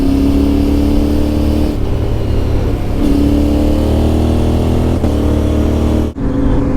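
Motorcycle fitted with a Black Widow exhaust with a carbon tip, ridden through sweeping bends on a road in Bosnia: a loud, close, steady engine drone whose pitch shifts a few times as the bike changes speed, with a brief dip near the end.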